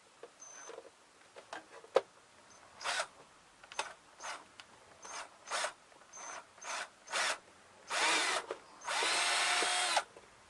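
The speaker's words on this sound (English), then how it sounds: "we're just going to drill the hole right in there" A power drill whirs in a series of short, stop-start bursts, ending with two longer sustained runs; no talking.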